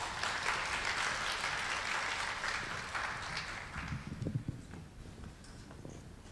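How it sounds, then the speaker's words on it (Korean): Applause from a conference audience at a Korea University security event, a dense wash of clapping that fills the start and slowly thins out toward the end, with some low thumps near the middle. "큰 박수로 모셔주시기 바랍니다."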